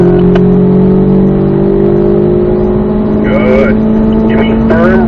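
A car on a track accelerates in fourth gear down a straightaway, with a loud, steady engine drone close by and voices speaking briefly over it.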